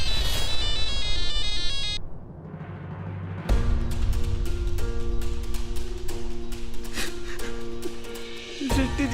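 A phone ringtone plays unanswered, first a repeating electronic ring, then a pause and a melodic ringtone with sustained tones and rhythmic beats continuing to the end.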